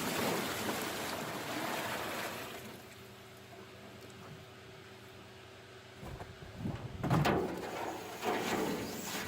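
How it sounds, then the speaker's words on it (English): Maple sap poured into a homemade cinder block evaporator over a wood fire outdoors, a close, steady watery splash and trickle that swells louder near the end. "Pour in your sap."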